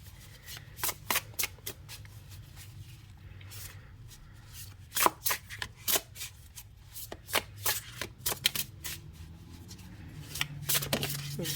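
Tarot cards shuffled by hand in a quiet room, a close run of crisp riffling bursts and soft slaps in uneven rhythm, each flurry lasting about a second with brief pauses between.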